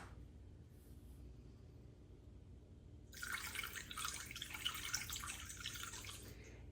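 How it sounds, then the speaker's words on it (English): Warm water pours from a tap or jug into sourdough roll dough, a steady broadband splashing stream that starts abruptly midway after a quiet stretch and runs continuously, close and moderately loud. "And then 100 grams of warm water."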